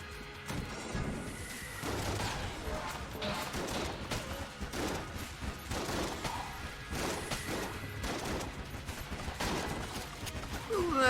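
Rapid gunshots and crashing impacts in the roguelike shooter Enter the Gungeon as weapons are swapped between shots, a busy steady barrage at moderate level with faint talk underneath.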